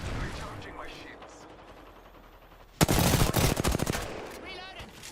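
Gunfire in an Unreal Engine 5 shooter game: quiet ambient game noise, then a sudden loud burst of rapid automatic fire lasting over a second, followed by fading rattles and a short electronic tone.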